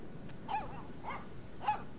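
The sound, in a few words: dog barking in video game Life is Strange 2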